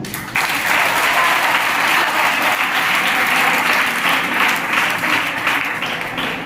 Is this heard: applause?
yes